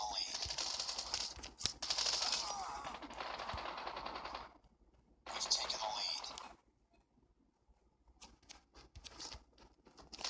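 In the COD Mobile video game, an SMG fires in rapid, close bursts, broken by a couple of quiet gaps, and a voice talks in between.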